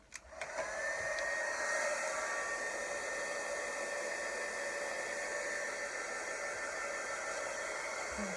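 A heat tool blows steadily to emboss a card, a loud, close whooshing hum that starts with a click and runs on without a break, with no talk.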